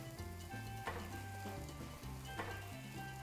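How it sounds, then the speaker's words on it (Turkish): Minced meat with softened onions and spices browns in a pan, giving a soft, continuous sizzle under quiet background music. "Kıymayla epey bir kavrulacak."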